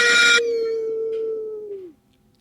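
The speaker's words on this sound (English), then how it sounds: "my dog in the background somehow heard that through the headphones, and he started to bark" A dog in the background lets out a single long howl, a sustained, slightly wavering tone that slowly drops and fades away after a brief louder burst at the start.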